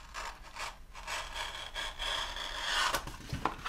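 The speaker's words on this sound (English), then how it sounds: "I'm just gonna trim right along the edge here" A blade trims along the edge of a vinyl decal sheet, making soft, close scraping and rubbing strokes in short uneven bursts, faint and without voices.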